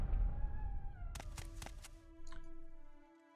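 A tomcat indoors gives a short, clear meow. A few sharp knocks and a sustained tone accompany it, all fairly quiet and close.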